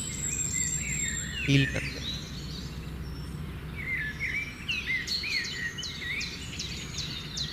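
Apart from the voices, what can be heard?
birds chirping outdoors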